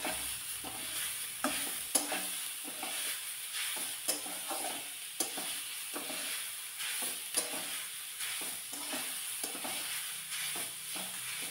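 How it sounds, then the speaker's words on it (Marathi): Beetroot and onion stir-fried together in a pan, giving a steady soft sizzle with repeated scraping stir strokes roughly every second, close and moderate in level, with no voices. "बीट चांगलं व्यवस्थित भाजून घ्यायचं आहे"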